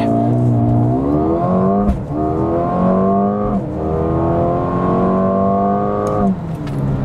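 A Mercedes-AMG CLA 35 4MATIC accelerates hard in Sport Plus mode, the engine note climbing steeply through several gears with brief dips at each upshift, loud and close throughout.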